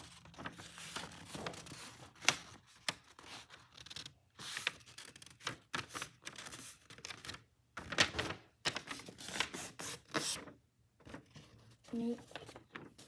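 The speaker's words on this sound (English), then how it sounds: "fold the paper like a long book." A sheet of paper is folded lengthwise to start a basic paper airplane, giving bursts of close crinkling, rubbing and creasing with short pauses between them.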